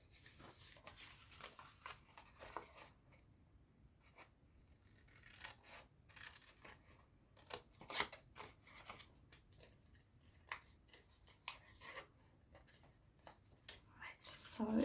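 Paper being cut with scissors to make a cherry cobbler treat box, heard as quiet, close snips and rustles in irregular bursts, with soft murmured talk in the background.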